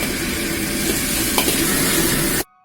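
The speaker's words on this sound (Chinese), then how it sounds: "然后放入蚝油和老干妈，炒出香味儿" Hot pot base, oyster sauce and Lao Gan Ma chili sauce stir-fried in a hot wok for dry-pot cauliflower, a loud continuous sizzle with spatula scraping that stops abruptly at the end.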